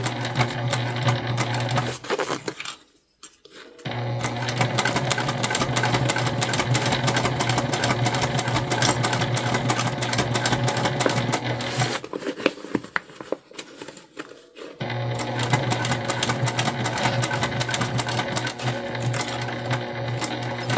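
A sewing machine stitches a Belinda bum bag in long, loud runs of rapid, even needle strokes, pausing briefly twice while the fabric is flattened before resuming at full speed.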